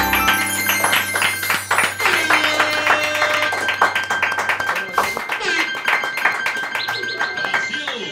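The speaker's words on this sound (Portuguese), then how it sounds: "Salva de palmas aí." A live audience claps a round of applause as repentista improvising singers are welcomed onto a stage show, dense steady clapping over a low hum with voices mixed in underneath.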